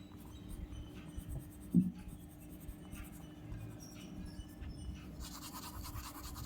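An orange crayon is stroked lightly across paper over a coloured yellow base, making a soft, continuous scratchy rubbing close up.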